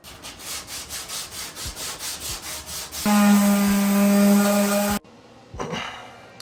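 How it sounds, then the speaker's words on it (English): Rhythmic rubbing strokes of sanding the interior of a stripped camper shell, a steady back-and-forth scrape, then a louder buzzing power-tool whine for a couple of seconds, followed by quieter scraping. "while we were sanding the interior down"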